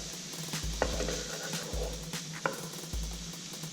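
Ground cumin and paprika being stirred into a pot of vegan Mexican chilli, with soft sizzling and a few sharp spoon-against-pot knocks at irregular intervals, close and moderately loud, no speech.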